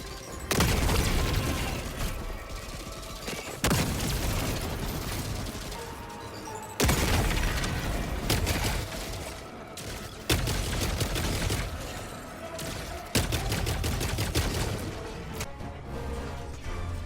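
Epoch weapon fire and explosions in the video game Helldivers 2, a series of loud booming blasts at irregular intervals, each followed by long crackling, rumbling decay.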